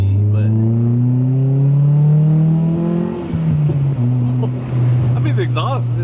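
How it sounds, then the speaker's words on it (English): A Honda Prelude with an Injen air intake revs hard, its pitch climbing steadily and then dropping back, with a deep throaty exhaust roar filling the whole clip. "the exhaust is just so loud"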